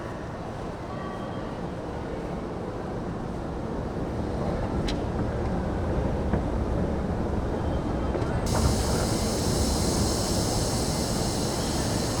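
A continuous loud rumble and rushing noise of a moving KRL commuter electric train in Indonesia fills the scene, steady throughout with no clear pauses.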